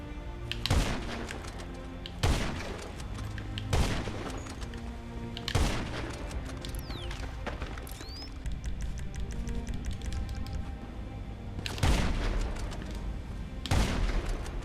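Gunshots in a PS4 shooter game, heavy booming reports spaced a second or two apart, about seven in all over a steady background of game ambience, with a few fainter shots and effects in between.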